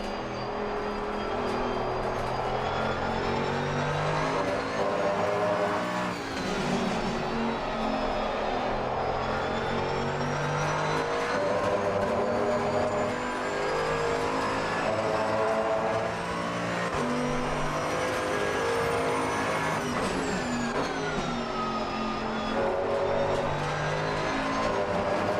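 GT2 race car in Assetto Corsa Competizione, its engine droning loud and steady with pitch rising and falling through gear changes and corners, continuous for the whole stretch with no talk.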